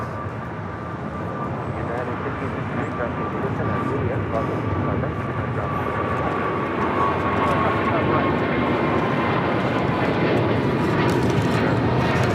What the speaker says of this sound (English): This is United Airlines 1158 taking off to Honolulu, Hawaii on a 777-200.